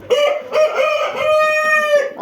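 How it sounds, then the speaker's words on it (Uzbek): A rooster crows loudly and close by, one long, strained cock-a-doodle-doo with a few short clucks at the start and no talking. "xo'roz o'ta kuchli"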